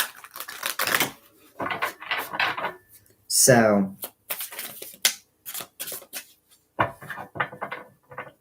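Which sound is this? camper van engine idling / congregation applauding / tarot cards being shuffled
tarot cards being shuffled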